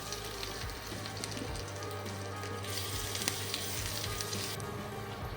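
Asafoetida and ginger dropped into hot oil, giving a dense, continuous close sizzle with a few brief crackles, steady from start to finish.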